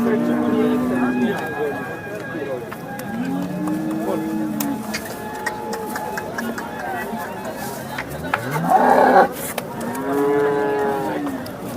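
A cow moos repeatedly at a busy cattle market in Sangola, long low calls rising and falling, over an outdoor crowd with steady chatter and background voices.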